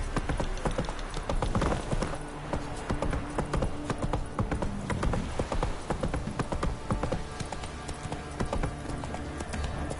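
Roach the horse gallops in The Witcher 3, a steady rapid clip-clop of hooves that runs throughout, loud and close over a busy game soundscape.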